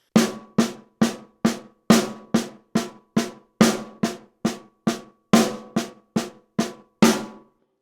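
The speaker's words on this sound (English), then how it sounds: "right-hand accent on the start of the paradiddle" A drum plays accented single paradiddles as a fast, even run of sharp strokes. Some hits land noticeably louder, and each stroke decays quickly, close and dry, with no talking over it.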